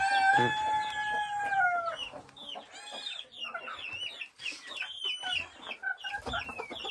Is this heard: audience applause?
no